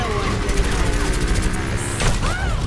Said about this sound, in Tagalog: Ay, sumabog.